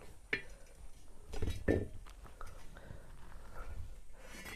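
A tava griddle is lifted off a home stove after cooking bhakri and set down, giving a few faint metallic knocks and a soft clunk amid quiet kitchen noise, with a low voice murmuring.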